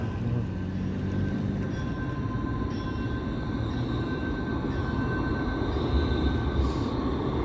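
A light rail train rolls past steadily in a city street, a broad continuous rumble of wheels and car bodies with faint thin rail tones, fairly close and without talk.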